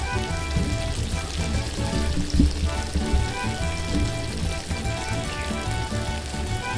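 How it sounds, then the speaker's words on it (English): Food for a lasagna fries loudly in a hot pan, giving a dense, continuous sizzle with crackling pops and occasional stirring noises close by. "watch how this thing sizzling"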